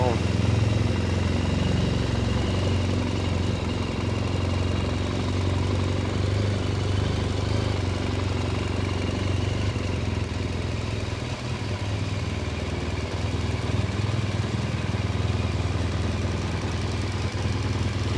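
A BMW R1200GS motorcycle engine idles steadily nearby, a constant low rumble that holds throughout.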